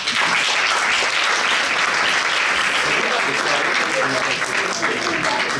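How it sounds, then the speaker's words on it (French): Loud, sustained applause from an audience at a live show, many hands clapping in a dense, even roar that holds steady from start to finish, with faint voices underneath. "On va pouvoir déjà même l'applaudir."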